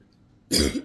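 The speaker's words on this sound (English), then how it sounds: "Excuse me, I'm going to pause, I'm going to cough." A single sharp cough bursts out after a moment of quiet, close and fairly loud, with a short harsh follow-through.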